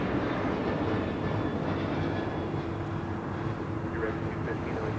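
A United Airlines Boeing 737 MAX 8 arriving at LAX makes a broad, rumbling roar that holds steady and loud throughout, heard from nearby with voices faintly underneath.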